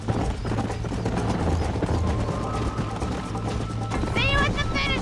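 Horse hooves clip-clop in a fast, steady rhythm during a ride in Red Dead Redemption, set against continuous game music and ambience, with a short whinny-like sound near the end.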